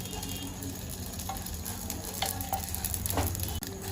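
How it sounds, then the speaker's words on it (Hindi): Vermicelli roasts in a pan over a medium flame, giving a soft continuous sizzle broken by a few scraping stirs of a spoon toward the second half. "ये देखिए हमारी सेवइयां भून रही हैं।"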